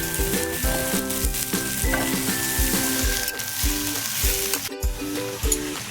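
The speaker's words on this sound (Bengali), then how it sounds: "দিয়ে দেবো গাজর কুচি আর বাঁধাকপি কুচনো আমি দিয়ে ভালো করে নাড়াচাড়া করে নেব।" Chopped carrot and cabbage stir-frying in a pan for egg masala pasta, a bright sizzle under repeated rhythmic scraping strokes and clinks of the spatula against the pan, close and steady.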